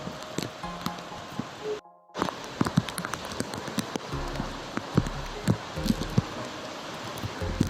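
Steady, dense heavy rain patters on surfaces and leaves on an island, with scattered louder drops and a brief dropout near the start.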